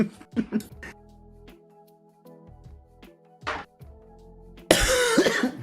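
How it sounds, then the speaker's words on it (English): Several harsh coughs burst out near the start, then a low steady hum runs underneath, with a few more brief coughs and a loud noisy rush at the end, during scale model building with photo-etch parts. "I'm so sorry about my coughing"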